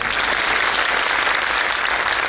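Sustained applause from an audience at a Hindu religious discourse gathering in Karnal, India: dense, even clapping that fills the whole clip at steady loudness, with no voices standing out.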